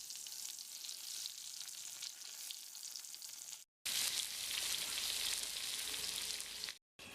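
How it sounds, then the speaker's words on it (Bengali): Pointed gourd pieces fry in hot oil in a wok, giving a dense, continuous sizzle and crackle close up, broken by two short silent gaps, with no voices. "এবারে এগুলি ভালো করে মেখে নিয়ে কড়াইয়ের গরম তেলের মধ্যে দিলাম ভাজার"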